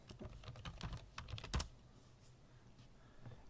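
Quick tapping on a computer keyboard as a question is typed, a steady run of close, crisp keystrokes that thins out and turns sparse near the end.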